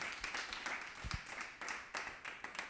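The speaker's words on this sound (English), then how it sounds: "if we could hear a round of applause for nice plants, good pots" A start-up pitch event audience applauds in scattered, moderately distant claps, with uneven individual hits standing out over a quiet, rolling bed of hand claps.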